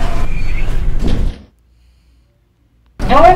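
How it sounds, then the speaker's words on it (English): Elevator sliding doors in a Roblox game roll shut with a brief whoosh and soft thud, followed by a moment of near silence before another sound starts. "Door closing."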